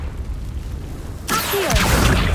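A Confringo fire spell in the game Hogwarts Legacy, a sudden loud booming burst that erupts partway through and rumbles on, preceded by quieter ambient game sound.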